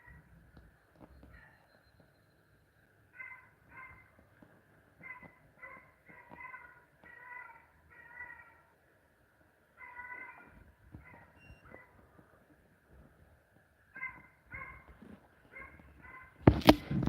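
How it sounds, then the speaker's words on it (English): Rabbit hounds out in the woods give repeated bursts of distant, drawn-out baying in irregular clusters, with quiet gaps between them and a sudden loud noise close by at the very end. "That's that rooster dog barking there."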